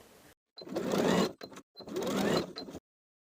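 A sewing machine stitches buttonholes on a Gilbert top, two bursts of rapid mechanical stitching separated by a short pause, close and clear with no talk.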